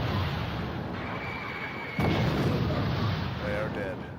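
Artillery shells bursting in the strategy game Wargame, a sustained rumbling barrage with a sharper blast near the midpoint, layered with game ambience and faint tonal effects.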